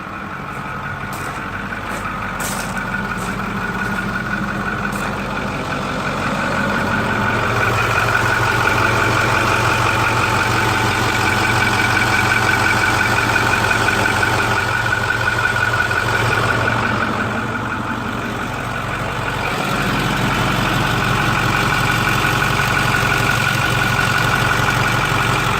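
A lifted 2008 Ford F350 pickup with a fairly stock engine idles nearby in a steady, fairly quiet rumble. The idle swells slightly in the middle stretch and then settles, with no talking over it.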